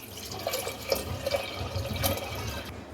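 Water pours into a clay pot holding soaked red kidney beans and lentils for Kashmiri dal, a steady splashing trickle with faint drips, moderately quiet and with no talking.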